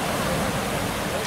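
A clown drives a Jeep through the water at Rufford Ford, giving a steady, loud wash of churning, splashing water that fills the short moment without a break.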